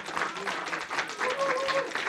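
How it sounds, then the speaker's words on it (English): An audience claps after a lecture on Korean Buddhist art, a short, moderately faint patter of applause with a faint voice underneath. "Please join me in giving Dr. Mowry one more hand of applause"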